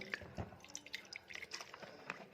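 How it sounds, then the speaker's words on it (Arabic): Lemon juice and vinegar poured into a glass jar for beet salad, heard as close, quiet dripping and splashing liquid with small wet squishes. "هحط الليمونه واحط الخل"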